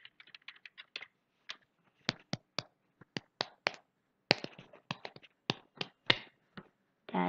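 Sharp hand claps sounded out one by one in an uneven rhythm, as if tapping out a melody, close and fairly quiet, with short gaps between the hits and no talking.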